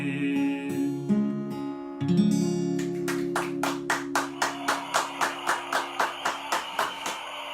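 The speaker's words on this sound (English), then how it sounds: "Didn't know you were going to clap there" At a live folk covers gig, sustained instrumental tones ring out, then an audience breaks into steady, evenly spaced rhythmic clapping that continues at a brisk beat alongside the lingering music, without talk.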